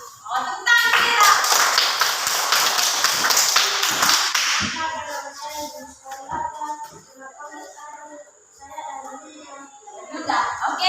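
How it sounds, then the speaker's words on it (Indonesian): A room of elementary school pupils breaks into a loud, rapid round of clapping lasting several seconds, which fades as children start talking and murmuring nearby. "tepuk tangan kita"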